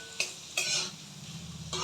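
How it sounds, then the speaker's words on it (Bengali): Noodles and meat for non-veg chowmein frying in a pan, with a steady sizzle and a few sharp bursts of stirring or tossing over roughly two seconds, close and fairly quiet. "তো এটা একটু ফ্রাই"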